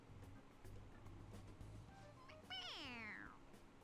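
A stuffed toy cat in the game Persona 5 Royal lets out a single meow when its head is pressed, rising and falling over about a second, heard after low game background sounds.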